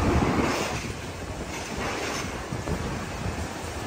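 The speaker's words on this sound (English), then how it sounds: "Wind, pretty windy out here." Strong wind blowing outdoors at a supermarket fire in the Bronx, a heavy, roaring rumble of gusts buffeting the microphone. It is loudest at the start and then holds steady and continuous, with no talk.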